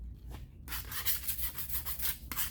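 Wet sanding of body filler on a VW Jetta quarter panel by hand, a series of short rhythmic scraping strokes, close and moderately loud, with a brief pause before the rubbing resumes.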